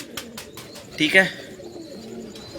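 Pet pigeons cooing in a loft, soft repeated low coos with a brief louder flutter midway, while someone speaks briefly nearby.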